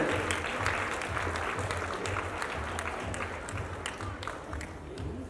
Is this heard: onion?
no